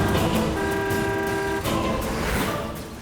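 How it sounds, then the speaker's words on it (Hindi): A car horn sounds in a couple of steady, loud honks, heard close as a vehicle arrives, over a dense background mix. "ये तो इंद्रेश की गाड़ी।"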